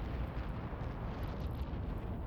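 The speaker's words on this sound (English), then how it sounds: "Oof, there's a lot of missiles hitting us" Missile impacts on a ship in the space game EVE Online form a continuous low, rumbling roar of explosions with steady broadband noise and no distinct separate hits.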